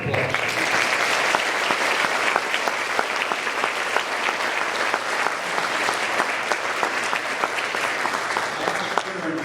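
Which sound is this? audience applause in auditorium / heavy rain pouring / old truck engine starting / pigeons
audience applause in auditorium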